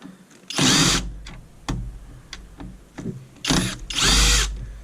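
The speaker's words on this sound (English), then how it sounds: "get the drill on here, and we'll see if we can start ripping this thing apart" A power drill whirs in two loud, sustained bursts while taking apart an iMac all-in-one computer for scrap, with clicks and clatter of handling in between and at the ends.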